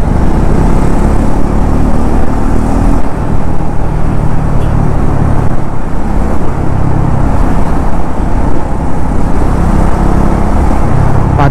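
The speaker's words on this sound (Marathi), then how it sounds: "पाचव्या गिअरवर गाडी आहे" Royal Enfield Himalayan 450 or Triumph Scrambler 400X motorcycle cruising in fifth gear at 60 km/h, with a steady loud engine drone and heavy wind rush running continuously.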